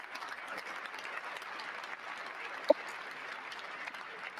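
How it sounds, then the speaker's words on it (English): Steady applause from a large crowd at a 2025 presidential inauguration, fairly distant and even, with one sharper clap or knock standing out briefly. "They standing up and they're clapping again."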